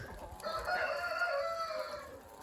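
Inside a barn full of chickens, a rooster crows loudly and clearly over a background of hens clucking, with no one talking.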